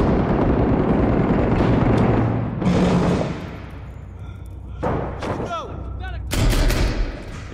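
Gunfire in the combat video game Six Days in Fallujah during a building fight, with loud broadband shot bursts and thuds recurring irregularly over steady background noise and music.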